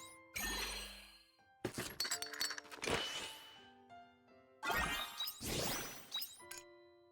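Bomb blasts in the farming game Harvestella come as several sharp, crashing bursts with bright ringing, chiming tails, grouped in quick bursts with short pauses between.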